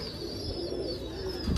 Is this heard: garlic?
no